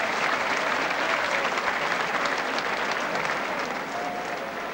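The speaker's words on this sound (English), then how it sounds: "even the Hull spectators joining in the applause" Spectators at a rugby league match between Hull and Barrow applaud a try in steady, dense clapping that holds at an even level throughout, crowd-wide and continuous.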